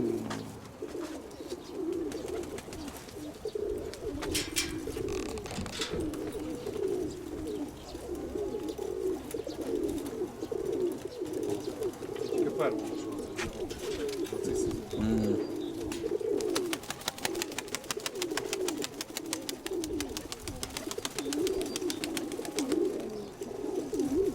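Pigeons in a dovecote coo continuously in soft, rolling phrases, several birds overlapping at close range against a faint background.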